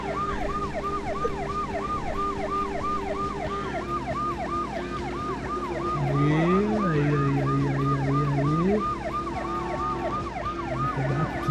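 Police car siren from the driving game Driver 2, a steady wailing siren cycling rapidly and continuously throughout, with a second lower siren tone sweeping in midway over a constant engine and road rumble.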